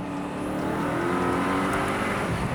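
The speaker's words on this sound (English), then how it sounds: "So it's a V8 supercharged, 570 some odd horsepower" Supercharged V8 of a Mercedes with about 570 horsepower, accelerating hard with a dense, continuous roar and intake noise, steady and fairly close.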